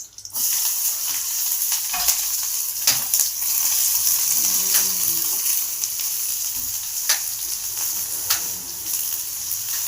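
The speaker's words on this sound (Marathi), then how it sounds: "आता मोहरी टाकणार आहे मी." Mustard seeds sizzle in hot oil while vegetables are cooked, a steady bright hiss broken by sharp pops and spatters, close and fairly loud, with faint voices in the background.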